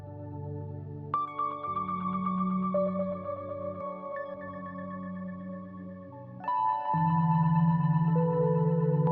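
A sampled Spitfire Labs piano patch with delay, reverb and simple EQ plays a few sustained notes that ring and echo into a lush, smeared wash, growing louder near the end.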